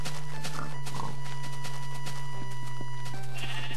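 A sheep bleats in the video game Minecraft, with short nasal bleats rising above a steady background of sustained game tones.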